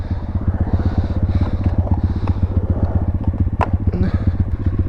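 A pit bike engine putters in a steady, rapid idle-like thrum while riding around a skatepark, loud and close, with faint clatter and knocks over it.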